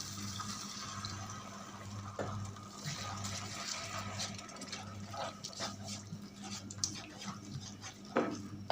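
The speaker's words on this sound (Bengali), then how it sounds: "এখন আমি দিয়ে দিচ্ছি মিক্সির বাটির মধ্যে আমি একটু জল দিয়ে দিচ্ছি" Water poured into a mixer jar holding spice paste for paneer bharta, a continuous close trickle and splash with faint clinks of the jar over a low background hum.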